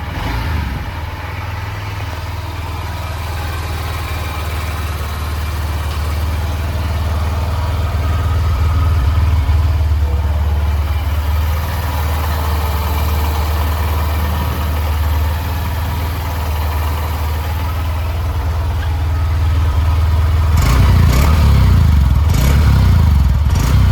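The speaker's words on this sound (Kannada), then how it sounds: "ನೆಕ್ಸ್ಟ್ ಒಂದು ಸ್ಕೂಟರ್ ನ ಎಕ್ಸಾಸ್ಟ್ ನೋಟ್ ನ ನೋಡ್ಕೊಂಡು ಬರೋಣ ಬನ್ನಿ" A Honda scooter's engine idles with a steady low exhaust note for most of the stretch, rising slightly midway, followed by a few sharp throttle blips near the end; no talking.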